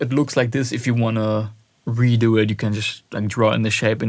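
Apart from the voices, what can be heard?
No distinct noise like a dog, phone or traffic.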